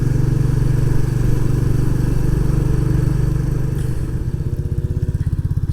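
Royal Enfield Classic 350 single-cylinder motorcycle riding across moorland in Northumbria, a steady loud low engine thrum throughout that turns into a distinct pulsing thump toward the end as the revs drop.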